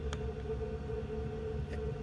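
Chinese diesel heater running inside a van, giving a steady low hum and drone with a constant tone, close and continuous, with a couple of faint brief clicks.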